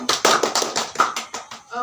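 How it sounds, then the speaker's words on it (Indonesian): A small group claps together in a few rhythmic bursts during a group counseling session, close and moderately loud, with a voice starting to speak at the very end. "Tepuk tangan untuk kita semua."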